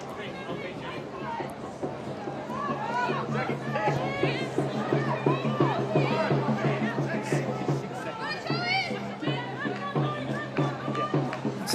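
Football stadium crowd at a Perth Glory versus Brisbane Roar A-League match, a sustained murmur and swell of appreciative noise from the stands, rising in the middle and carrying on steadily under a commentator's voice.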